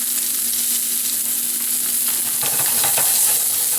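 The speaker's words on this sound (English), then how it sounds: "I'm going to add my garlic to the pan" Garlic sizzling in a pan at medium heat before a strip steak is cooked, a loud, dense, continuous frying hiss with a low steady hum and some stirring near the end.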